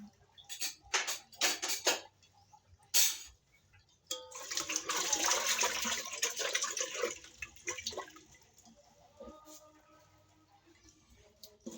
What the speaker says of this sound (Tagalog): Hugasan ko lang ito.